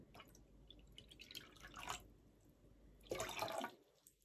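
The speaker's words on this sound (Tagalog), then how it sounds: "So, I will put the vinegar." Vinegar pours into a bowl of water for soaking sliced banana blossom in a kitchen, giving two short bursts of soft splashing and trickling liquid, faint and close, separated by a quieter pause.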